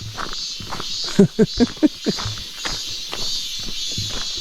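A steady high drone of cicadas fills the forest along a Seoraksan mountain trail, with a few close footsteps and faint shuffling underneath.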